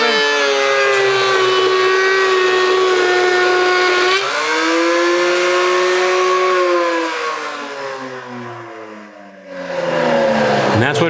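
Surface planer with in-feed rollers starting up and cutting a wooden board down to thickness, run without a dust collector; a loud steady whining roar with strong tonal harmonics, pitch dipping as the cut loads it, then easing and rising again.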